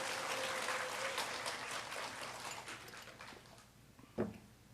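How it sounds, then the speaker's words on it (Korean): A church congregation at a mothers' prayer meeting claps in sustained applause that gradually fades, ending with a single sharp knock. "열심히 몸으로 찬양해 주신 우리 김성원 전사님께 다시 한번 격려의 박수 부탁드립니다."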